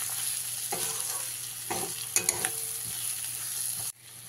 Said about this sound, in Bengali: এর মধ্যে দিয়ে দিতে হবে ভেজে রাখা আলুগুলো দিয়ে খুব ভালো করে মিশিয়ে নিতে হবে